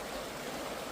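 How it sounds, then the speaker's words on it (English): A fast-flowing river rushes in a steady, loud, continuous wash of water outdoors, with no other sounds over it. "Can you hear the river flowing?"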